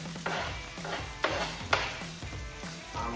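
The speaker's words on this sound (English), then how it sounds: "we have the onions and garlic going into our pan" Onions and garlic sautéing in heated oil in a pan, a steady close sizzle broken by several stirring scrapes and a couple of sharper clinks against the pan.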